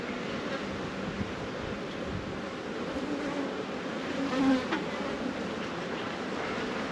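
Honeybees buzzing inside a newly established hive during a solo inspection, a steady close drone that holds evenly throughout with a brief louder swell partway.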